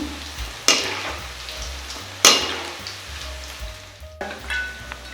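Pieces of shredded chicken pakoda crackle and sizzle in hot frying oil, with two sharp bursts as pieces drop in or are turned, over a continuous bubbling hiss.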